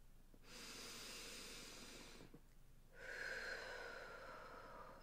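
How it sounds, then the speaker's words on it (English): Slow, deep breaths during a quiet guided meditation, in through the nose and out through the mouth; two long, airy exhalations close to the microphone with a short pause between them and no talking. "Take another deep breath."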